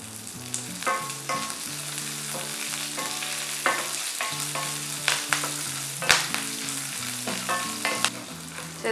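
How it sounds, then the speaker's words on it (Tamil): Curry leaves and dried red chillies frying in a pan, a steady sizzling hiss with repeated spoon scrapes and clicks against the metal, close and continuous over a low background tone, with no voices. "இதெல்லாமே ஒரு ஃபியூ செகண்ட்ஸ்க்கு நம்ம நல்லா வறுத்து எடுத்துக்கணும்"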